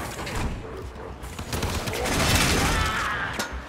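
Rapid bursts from the Boltor gun in the Warframe video game, a dense crackling volley of repeated shots that swells toward the middle and continues steadily at close range over game noise.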